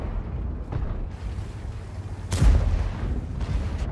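A heavy tank cannon fires in the World of Tanks video game, with a deep booming blast midway over a constant low engine rumble, joined by a couple of softer distant shots.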